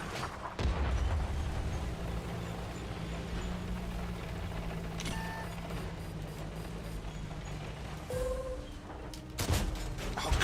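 Tank cannon fire in World of Tanks on console, heavy booming blasts near the start and end with a low rumbling engine drone between them, loud and close, no talk.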